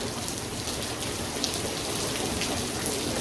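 Steady rain falling on a surface, a dense even hiss and patter that continues without a break, fairly close and heard alone.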